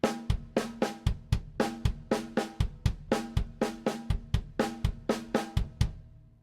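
Drum kit playing a paradiddle-diddle sticking split between hands and bass drum, a steady run of about seventeen crisp, evenly spaced strikes mixing snare or tom hits with low kick thumps, close and loud, no talking.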